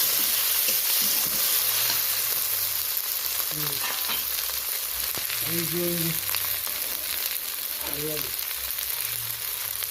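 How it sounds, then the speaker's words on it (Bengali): Ginger paste sizzling steadily in hot oil while being stirred for a cauliflower and bhetki fish dish, with utensil scrapes and a few short tonal clinks over the constant frying hiss. "আদা বাটাটা এইভাবে নাড়াচাড়া করে নিচ্ছি"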